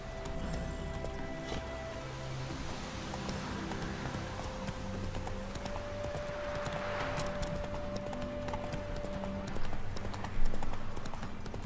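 Hooves of Geralt's horse Roach clip-clop steadily in The Witcher 3, a close, continuous walking rhythm under layered game music, with a couple of louder thumps near the end.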